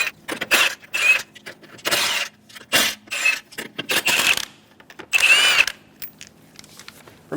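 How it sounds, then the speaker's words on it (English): An impact-style power tool with a 19mm socket zips lug nuts off the wheel of a 2003-2007 Honda Accord V6, several quick close whirring bursts with clinks and pauses between them. "Using a 19mm socket, remove the 5 lug nuts."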